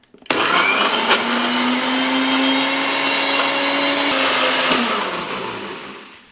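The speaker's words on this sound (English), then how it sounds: "It was in the mixer here in the NutriBullet for 40 seconds." A NutriBullet blender mixing a sauce for vegan pulled pork gives a loud, steady, high whirring whine that starts abruptly, holds for about five seconds, then winds down as it stops.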